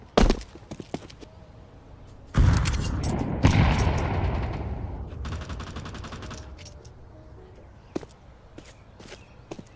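Pistol fire in a competitive shooter match pops in sharp, scattered shots, with a loud cluster of overlapping gunfire in the middle and footsteps and faint talk around it.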